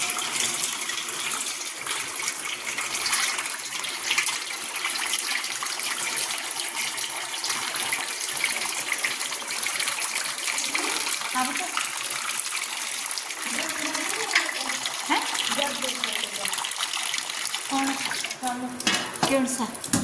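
Water gushes steadily from a home water filter, a continuous bright splashing pour held for the whole stretch, with faint household sounds toward the end.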